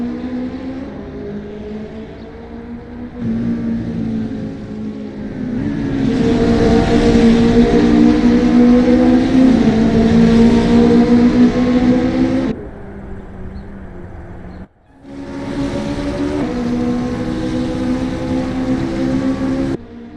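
Race car engines in an NZ virtual racing league, one car exiting the pits: sustained harmonic engine drone that swells louder mid-clip, drops briefly, then returns steady.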